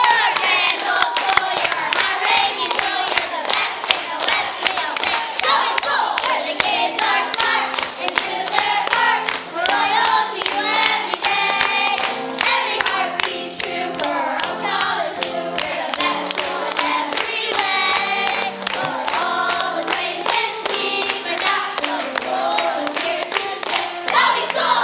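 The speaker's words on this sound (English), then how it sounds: "Just a big round of applause for Toby Tigers." A school board meeting audience gives a big round of applause and cheers for the Toby Tigers, dense steady clapping sustained throughout with scattered shouts mixed in.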